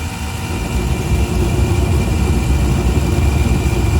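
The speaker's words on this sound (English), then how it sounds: "I can even hear the pressure from the blower affecting the heat exchanger" A Trane gas pack unit's blower runs with a loud, steady low rumbling drone, continuous and close, with no voices.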